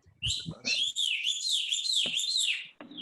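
Bird chirping over a meeting call line, a clear close run of bright rising and falling whistled tweets in quick succession, alone with no talk.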